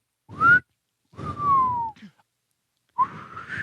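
Three tonal whistled notes, the first a short rising tone, the second a longer gliding fall, the third rising again, breathy and close, with pauses between.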